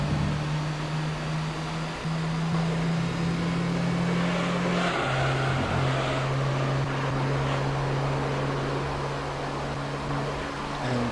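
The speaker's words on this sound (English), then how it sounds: "Don't know if I over-revved the engine there" Toyota Vitz race car in Gran Turismo 3 at Laguna Seca, its engine droning steadily and loud throughout with a brief dip and shift midway as revs change, alone without talk.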